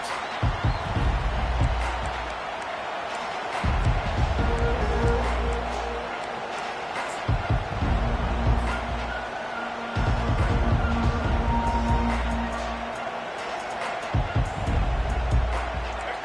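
Stadium crowd in the NCAA 25 college football video game roaring steadily in waves under continuous commentary, with the crowd noise swelling and dropping several times.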